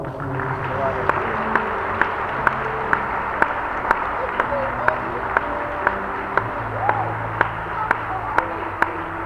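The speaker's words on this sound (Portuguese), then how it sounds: "Dá um aplauso bem forte ao Senhor" Congregation applause during a church communion service, a steady broad clapping wash mixed with music and voices, with sharp regular beats cutting through at even intervals.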